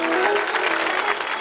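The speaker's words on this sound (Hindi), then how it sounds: "जोरदार ताली को सब प्राप्त करेंगे इनका" A short burst of audience applause greeting a guest at a welcome, steady dense clapping from many hands with no pause.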